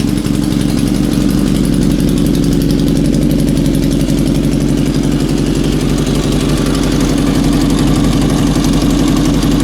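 A Honda TRX450R quad engine swapped into a CB450 Nighthawk motorcycle idles steadily and loudly up close, a constant rumbling, slightly knocking drone with no talk over it.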